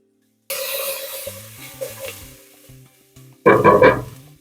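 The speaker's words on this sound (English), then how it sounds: "And we're going to proceed to cook these onions until they are translucent." Onions cooking in butter in a soup pot give a steady sizzle with stirring clatter, fading partway through and then surging louder near the end.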